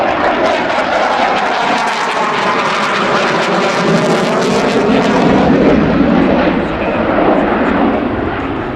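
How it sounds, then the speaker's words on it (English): US Navy F-18 Hornet jet on approach at an air show, its loud continuous engine roar sweeping past close by and holding strong throughout with shifting tone. "The Hornet will be approaching from the right at 500 feet."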